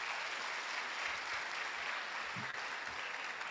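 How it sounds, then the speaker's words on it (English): An audience applauds at a ceremony inducting newly qualified physician assistants in Ghana, a steady wash of many hands clapping at moderate distance, fairly faint and continuous throughout. "A big applause for the Honorable Deputy Minister."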